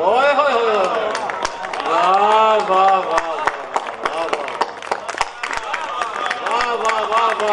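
Applause from a mushaira poetry audience in Fazilka, Punjab, with scattered claps that build and fade while someone talks loudly over them.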